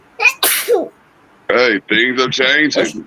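A single sharp sneeze bursts out near the start, loud and close, followed by someone talking.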